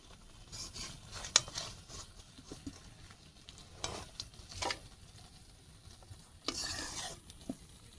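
Tomatoes are stirred in a frying pan alongside frying fish, with a soft, faint sizzle beneath intermittent scraping strokes and a few sharper clinks spaced unevenly.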